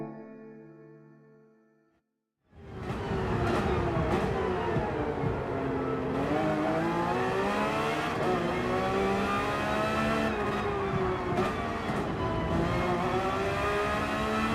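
A race car in Gran Turismo 7 on the Nürburgring GP circuit: after a brief fade to silence, a loud, close engine whine cuts in and holds, its pitch rising and falling through gear changes and braking.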